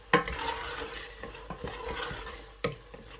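Black chickpeas (kalay chanay) with bits of tomato being stir-fried in a pan, giving a low sizzle with a few sharp scrapes and clinks of a spoon against the pan at scattered moments.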